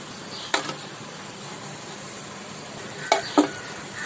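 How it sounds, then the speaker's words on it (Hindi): Shahi tukda chocolate bread rolls fry in hot oil with a steady soft sizzle, broken by a few sharp clinks and scrapes of a utensil in the pan. "सारे रोल्स को फ्राई कर लिया हमने"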